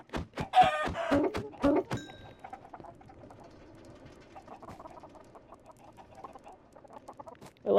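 Minecraft chicken clucks in a quick rapid series, then softer scattered game sounds and faint rustling follow without any speech.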